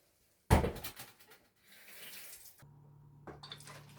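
Water splashes as a red snapper fish is washed, starting with a sudden loud gush and then settling into a quieter steady trickle, with a faint hum in the background and no speech.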